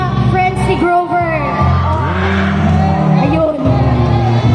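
A crowd of friends shouts, whoops and cheers for a winner at a Blitz Walk competition, with several overlapping voices rising and falling close by.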